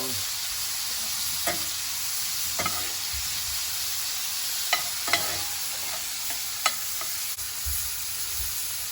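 Small shrimp fry in a pan for Malagasy coconut ginger shrimp, giving a steady close sizzle with occasional clicks from stirring.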